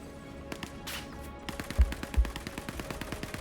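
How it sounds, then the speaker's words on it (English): Bursts of video game gunfire in Star Citizen, rapid automatic shots with two heavier close reports, over a steady low hum with no talk. "I hear gunfire."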